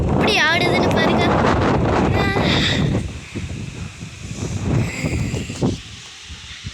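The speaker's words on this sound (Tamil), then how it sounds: "அவ்வளோ காற்று அடிக்குது" Strong wind shaking trees buffets the microphone in loud gusts, with someone talking in Tamil over the roar at the start before the gusts ease a little.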